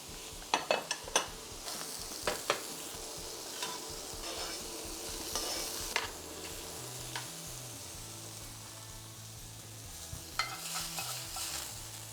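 Steady sizzling of steak frying in butter in a stainless steel pan, with scattered clinks and scrapes of utensils stirring, close and continuous.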